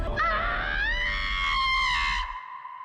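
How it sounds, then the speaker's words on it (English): A long, loud, wavering scream from a horror television drama, a single sustained cry lasting over two seconds before cutting off abruptly, heard alone with no talk. "Scream was wild."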